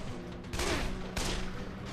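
Gun firing in the zombie game Dead Island, a few heavy bursts of shots up close, with a dense noisy ambience between them and no talk.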